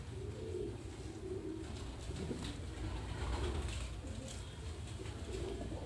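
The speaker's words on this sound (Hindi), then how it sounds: "ये मेल कबूतर है इनका" Male and female high-flying pigeons in a pair coo repeatedly in soft, low rolling calls, close by over a constant background hum with faint chatter.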